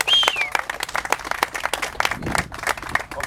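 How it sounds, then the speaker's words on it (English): Clapping from an audience at a groundbreaking ceremony for a new Jetro facility, fairly close and uneven, with separate sharp claps and a few voices and a whistle mixed in. "Let's give them a strong round of applause."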